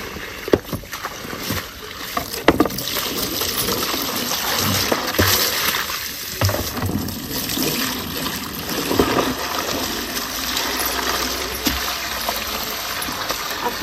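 Bunches of fenugreek greens are swished and dunked in a tub of water, giving close, continuous sloshing and splashing with irregular bursts of heavier splashes, and no speech over it.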